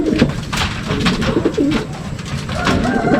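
Racing pigeons at a club loft coo repeatedly in low, throaty rolls, a flock close by with overlapping calls and some rustling in the background.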